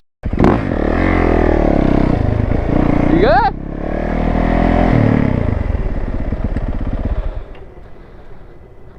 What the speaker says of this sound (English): That thing is loud, bro. I know. I gotta repack it. Yeah, no exhaust.